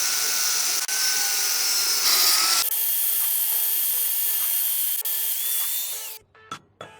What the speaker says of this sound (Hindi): और अब हम इनको मेजर करके फिर काटना शुरू करते हैं।